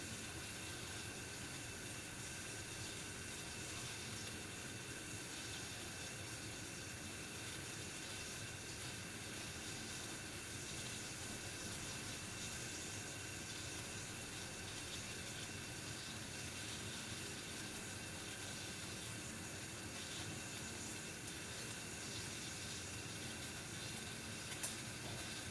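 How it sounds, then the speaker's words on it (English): Water heating in a pan just short of boiling gives off a steady, faint sizzling hiss that stays even throughout with no talking. "It's kind of sizzling over there on the edges of the pan."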